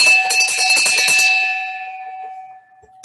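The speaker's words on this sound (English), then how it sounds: "Elhorn rings the bell furiously." A ship's bell is rung furiously, a rapid clatter of bright metallic strikes for over a second that then rings out and fades into a long, decaying hum, with a faint knock at the end.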